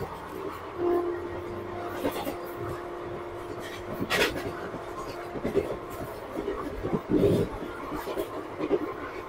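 The 13173 Sealdah–Agartala Kanchanjunga Express running through tea garden country near New Jalpaiguri, with a steady rumble and clatter of the coaches heard from inside, a long horn blast early on and a sharper burst later.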